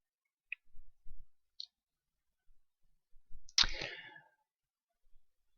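Computer mouse clicks, a few sharp isolated clicks spread across a quiet stretch, near and faint, with a soft rustle in the middle.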